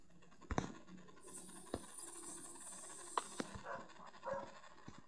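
Dog panting in the Minecraft video game, a soft breathy rasp running through the clip with a few sharp clicks and game effects, no talking.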